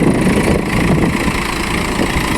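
A Mahindra Yuvo Tech Plus 475 DI tractor with a 3-cylinder 44 hp engine runs steadily nearby, a loud, even diesel drone with no talking.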